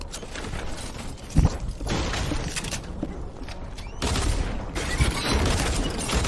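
Double-barrel shotgun and dual pistol fire in Fortnite, a dense run of loud, close shots with sharp bursts and heavy booms that continue almost without pause across the whole stretch.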